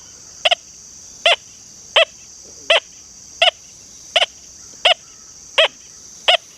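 Deus 2 metal detector on channel 6 sweeping over an iron-hunting coin lying above part of a horseshoe, sending out a steady series of eight short, bright, matching beeps about every three quarters of a second over a faint electronic hiss.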